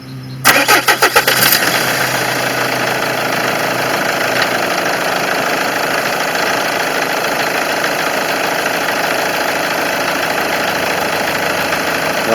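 A car being treated for a small cooling-system leak cranks briefly with rapid starter pulses, then catches and runs at a steady, close idle with a constant engine drone and no talking.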